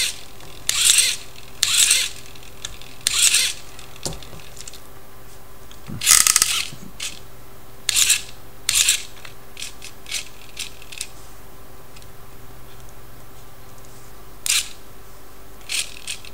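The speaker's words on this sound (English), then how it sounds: "This is a very basic leave me alone machine." A very basic servo-driven leave-me-alone machine runs close by, giving short whirring mechanical bursts spaced irregularly across the stretch, with quiet pauses between movements.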